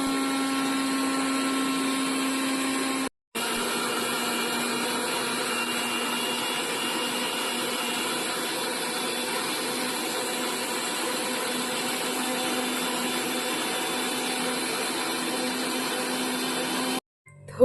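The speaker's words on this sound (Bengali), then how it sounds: "আর এই যে মিক্সিতে ব্লেন্ড করে নেবো" A kitchen mixer-grinder blends cut watermelon with black salt into juice, a steady loud motor whir running nearly continuously with one brief stop early on and a cutoff at the end.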